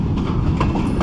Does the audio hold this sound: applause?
no